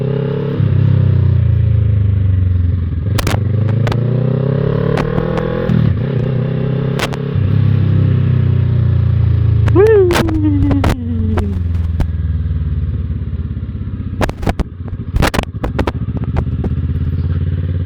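A Kawasaki ER6F Ninja 650 motorcycle with a local aftermarket exhaust runs loud and steady during a ride, its engine rising and falling through gear changes, with wind rumble and a rider's voice now and then.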